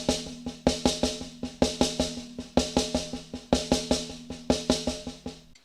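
A drum kit plays a fast repeating figure in five-stroke groups, sticking right-left then right-left-left, with sharp regular hits grouped in clusters and a ringing tom or snare tone, close and alone.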